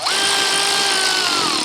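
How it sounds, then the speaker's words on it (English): Power tool snugging nuts on a Firestone airbag mount of a 2018 Ram 2500, one loud continuous whine held close for under two seconds. "now what I'm gonna do is just go ahead and tighten them up"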